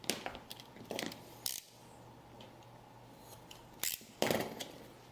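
Scissors snip material into a long strip for wrapping a mini briefcase, faint and close, giving a few scattered crisp cuts with quiet gaps between them.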